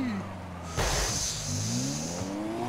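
A rocket-powered car in the video game Rocket League drives with a steady, rising engine drone, joined partway through by a loud, sustained rushing hiss that persists to the end.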